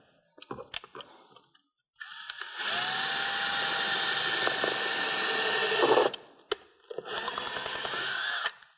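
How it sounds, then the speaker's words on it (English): A power drill with a 5/32 bit whirs loudly as it bores through a plastic tab on a Ford F-250 Super Duty running board in two bursts, with a few clicks and handling knocks before and between them. "take a size 5/32 drill bit and drill straight through this plastic tab"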